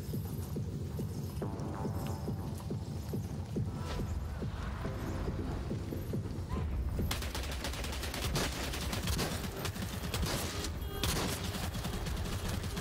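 Shotgun fire in a video game pounds out in rapid, repeated blasts over a steady loud din, growing denser partway through, with no talk.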